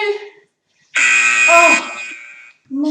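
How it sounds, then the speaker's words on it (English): Workout interval timer buzzer sounds one loud, sustained harsh electronic tone lasting close to a second, then fading, with a brief voice at either end. "there's the buzzer"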